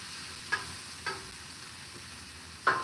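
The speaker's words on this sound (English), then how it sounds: "Go ahead and toss the shrimp around." Shrimp sizzling on a Blackstone griddle with a steady low hiss, broken by three brief sharp clinks of a spatula as they are tossed around.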